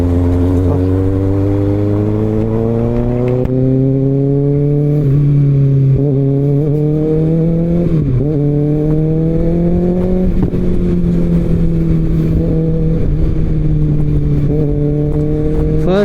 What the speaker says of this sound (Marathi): first time Mumbai Pune एक्सप्रेसवेला bike चालवतोय